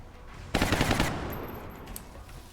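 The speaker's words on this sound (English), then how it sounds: "Why do the guns make shells fall over if they're shooting lasers?" In XCOM: Long War, a weapon fires one sharp, loud rapid burst of about half a second, followed by a decaying tail and faint clinks like spent shells falling.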